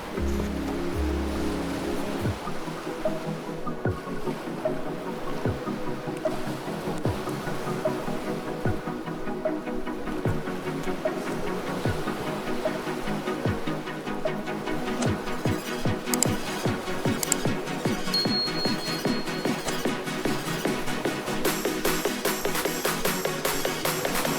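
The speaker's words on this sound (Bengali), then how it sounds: "কিছুক্ষণ পর পর সমুদ্রের গর্জন শোনা যাচ্ছে।" Surf rolls in steadily on the beach at Cox's Bazar, a continuous broadband roar of breaking sea waves with scattered crackles and no talking.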